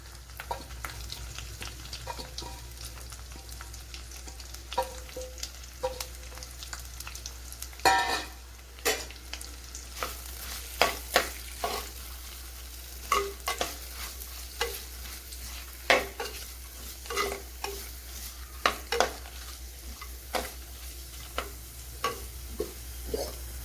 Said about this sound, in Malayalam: ഇതിലേക്ക് ഒരു സവാള ഇതേപോലെ അരിഞ്ഞെടുത്തിട്ടുണ്ട്, അത് ചേർത്ത് കൊടുക്കാം.